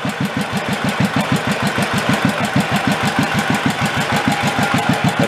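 An old Batmobile engine idles very slowly and unevenly after forty years left under a tree. Close, loud chugging pulses repeat at a steady low rhythm, with no talking.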